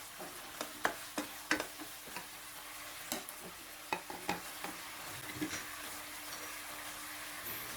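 Pork neck stir-fried in a pan with sweet dark soy sauce and seasonings, a soft sizzle broken by sharp irregular clacks of a utensil against the pan, fairly quiet and close.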